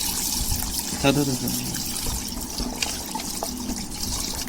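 Raw mutton being washed with water for a Sunday special meal, with trickling and pouring water and splashing running steadily under nearby conversation.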